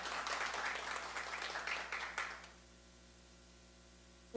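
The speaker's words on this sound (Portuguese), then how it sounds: "Vamos aplaudir a colega aí." A room of people applauds a candidate for tutelary councillor at a community presentation, dense clapping for about two and a half seconds before it abruptly stops, leaving quiet hum.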